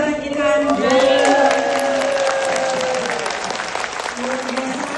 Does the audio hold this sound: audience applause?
yes